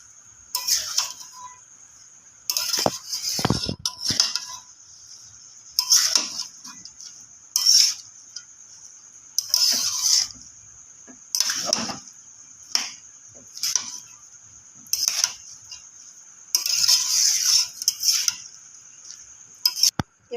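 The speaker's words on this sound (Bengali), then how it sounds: "এবার সব কিছু মিশিয়ে নাড়বো।" Ash gourd and pumpkin pieces with salt stirred in a cooking pan, a series of scraping, clattering strokes coming in repeated bursts over a steady high sizzle, close and fairly loud.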